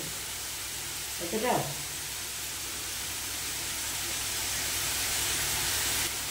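Shredded cabbage frying in a pan with salt as its released water cooks off, giving a broad steady hiss with a brief scraping stir near the start.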